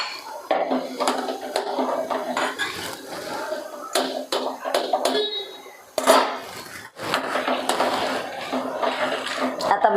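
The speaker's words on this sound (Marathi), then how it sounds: "म्हणून खलबत्त्यात कुटतोय" Grains mixed with a little sugar are pounded in a mortar and pestle, producing close, rhythmic knocking thuds that repeat steadily over a faint background.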